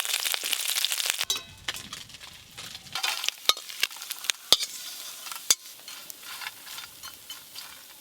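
Small fish fry in mustard oil in a home kitchen, a steady sizzle with stirring, scraping and sharp metallic clinks of a utensil against the pan, close and without speech.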